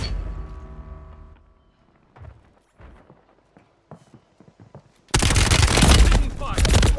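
Loud, dense burst of gunfire in Call of Duty: Warzone erupts suddenly after a stretch of quieter game sounds and scattered thumps, continuing as sustained rapid shooting to the end.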